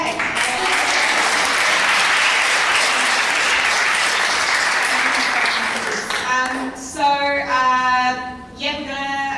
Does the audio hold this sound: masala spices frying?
no